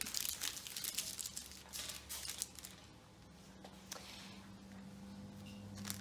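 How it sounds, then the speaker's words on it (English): Sterile gloves in their paper packaging being opened for a veterinary procedure, giving close, busy crinkling and tearing of paper that is loudest at first and then settles into softer rustles, with no talking. "So I've got sterile gloves here, and we're actually going to use the paper to create our sterile field. So I'm going to open these up."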